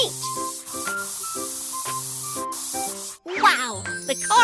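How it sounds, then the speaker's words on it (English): A steady hiss of spray paint being applied to a steel plate in a car repair video game, with cheerful game music and chiming tones playing throughout, and a bright sparkling jingle at the end. "Then spray the steel plate with paint."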